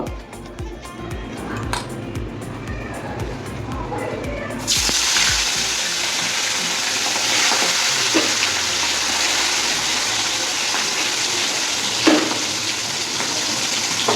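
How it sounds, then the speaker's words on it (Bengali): Sarputi fish go into hot oil, a sudden broad hiss and sizzle that starts partway through and then holds steady, after a stretch of sink-like clatter and running water. "প্রথমে আমি মাছগুলো ভেজে নেব।"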